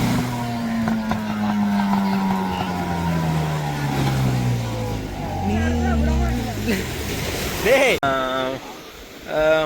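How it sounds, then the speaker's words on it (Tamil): A boat comes in toward the shore at the Point Pedro fish market. Its engine drones with a tone that slowly falls in pitch as it nears, while people talk nearby throughout. "தற்போது ஒரு போட்டு ஒன்று வந்து கொண்டிருக்குது இருக்குது கரையே"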